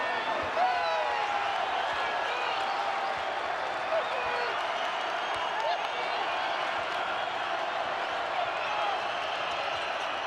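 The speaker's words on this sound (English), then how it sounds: "Crowd on their feet for the first time tonight" Basketball arena crowd at a Cincinnati vs. Colorado Big 12 men's game cheering and applauding steadily for ten seconds, a dense sustained roar with scattered whistles and shouts, with no talk over it.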